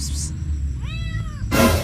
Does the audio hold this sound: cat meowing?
yes